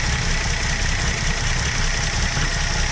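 A 1966 Dodge Coronet's Slant 6 engine idles low and steady, a close, continuous rumble with an even rhythmic chug and no voices.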